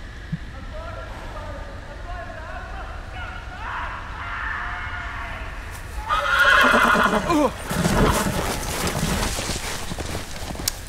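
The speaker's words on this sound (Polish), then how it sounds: "ten koń może nam narobić problemów" Horse neighing with clip-clop hooves in a Game of Thrones video game, a loud whinny rising midway over a steady ambient bed, followed by hoof and movement noise, with people talking over it.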